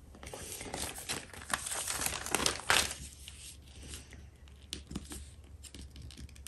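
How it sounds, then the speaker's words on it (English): Wrapping paper crinkles and rustles as it is folded back and forth into a fan for gift wrapping a wine bottle, close and crisp in uneven bursts, loudest midway, then fading to lighter scattered crackles. "keep folding back and forth until you fold into the center of the line that we marked right here"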